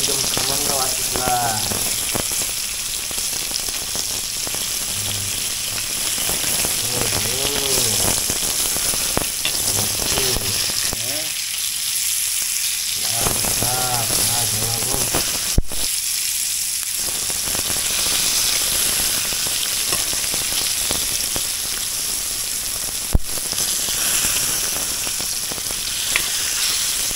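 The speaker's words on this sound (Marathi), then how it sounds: "बांगडा फ्राय, बांगडा फ्राय." Bangda (mackerel) fish frying in a pan, a loud, steady crackling sizzle that carries on throughout with occasional sharp pops, while a voice talks over parts of it.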